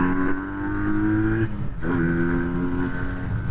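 A Honda Rebel 125 motorcycle engine running while riding, a steady loud drone with a brief dip in revs midway before it pulls again.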